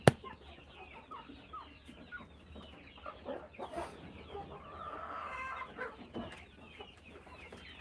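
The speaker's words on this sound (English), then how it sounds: "It sounds like a jungle fowl almost." Brown rooster with a metallic green tail and rose comb, jungle fowl-like, clucking and crowing among farm birds at a moderate distance, with steady background bustle and no voices.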